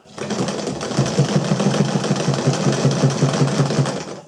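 Sewing machine stitching a patch over a hole in the knee of jeans, a fast even mechanical chatter running continuously and close for several seconds.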